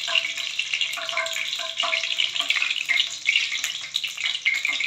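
Potato laccha pakora fry in hot oil with a dense, continuous crackling sizzle, close and steady throughout.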